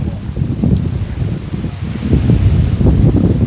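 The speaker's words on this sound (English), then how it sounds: "See the wind." Strong wind on a golf course buffeting the microphone, a loud, low, continuous rumbling roar with gusty swells that grow stronger toward the end.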